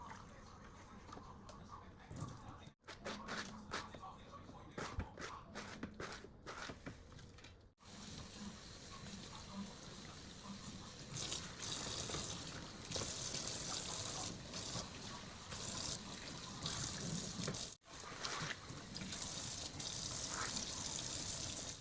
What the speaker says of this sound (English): After I rinsed out all the shampoo that was in the hair